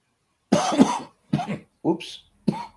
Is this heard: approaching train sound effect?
no